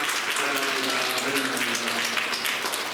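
A church congregation at a New Year thanksgiving service applauds to welcome first-time visitors, a steady, full round of clapping from many hands sustained evenly from start to finish.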